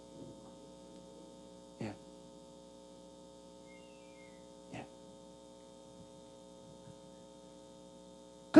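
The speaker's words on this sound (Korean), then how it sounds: "저 뒤에 저 에어컨 좀 꺼주십시오." An air conditioner at the back of a church hall gives off a steady low electrical hum with faint tonal lines, broken by a few soft knocks and thuds, with no talking.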